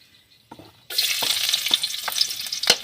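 Onion and garlic dropped into hot cooking oil, a faint quiet start giving way to a sudden loud, steady sizzle with occasional sharp pops and crackles.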